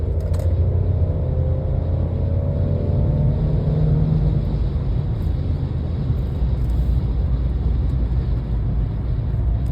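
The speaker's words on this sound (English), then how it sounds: "Mid-range thrust is definitely assertive. Again, not really a very characterful sounding motor." A 2019 Mercedes E450 Coupe engine pulls hard under throttle from inside the cabin, a steady low rumble with a brief rising rev tone early on, continuous and fairly loud.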